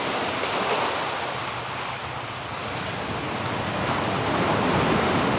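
Big sea waves crash onto the shore in a loud, continuous roar of surf, with steady wind noise blowing across the microphone; no voices are heard.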